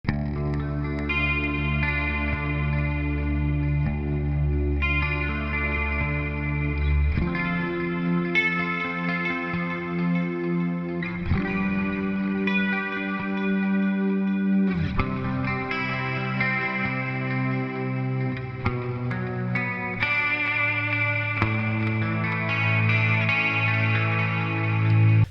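Clean electric guitar played through a Hotone Ampero Mini multi-effects unit, with compression, ringing chords and arpeggiated notes in steady phrases that change roughly every few seconds, close and clear with no talking.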